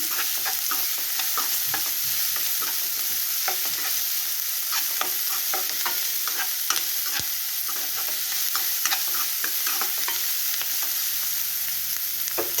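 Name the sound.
food frying in a pan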